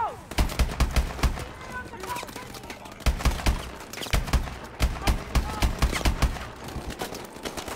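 Rapid bursts of gunfire in the video game Call of Duty: Advanced Warfare, repeated sharp shots in clustered volleys close and loud, with brief pauses between bursts.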